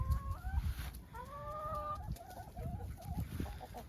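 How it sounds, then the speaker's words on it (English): Backyard chickens cluck and warble close by in a quick series of calls over low rustling and background noise. "Are those your chickens, Ellie?"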